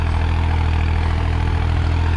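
A 2016 New Holland 3630 Plus tractor engine runs steadily at close range in a farm field, a loud continuous low diesel drone with no talking.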